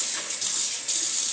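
Water runs steadily from a tap as a comb is rinsed under it, a close, continuous hiss with slight surges.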